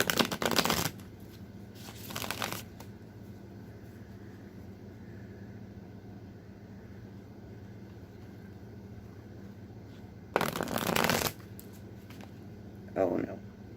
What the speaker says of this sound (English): I'm just going to shuffle it a couple more times.